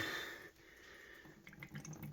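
Water dripping out of a diesel fuel filter as it is drained during filter assembly replacement, faint scattered drips and trickles close by, no talking.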